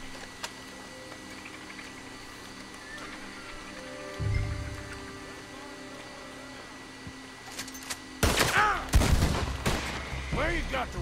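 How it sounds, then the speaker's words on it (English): Shotgun blasts from Red Dead Redemption 2, starting with a dull thump near 4 seconds and then a dense cluster of loud, booming shots in the last three seconds, set over steady game ambience. "This calls for the shotgun."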